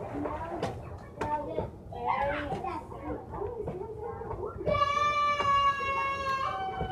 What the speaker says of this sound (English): I'm sorry about the kids in the background, they're playing.